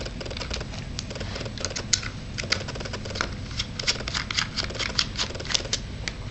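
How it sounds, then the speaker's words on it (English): Small screws being turned out of the four corners on the back of a Zoom-II OMAP34x device, giving close, quiet, dense ticking clicks and scratchy taps in a steady uneven patter with no talk. "there are 4 screws on the 4 corners of the Zoom-II device that you have to unscrew"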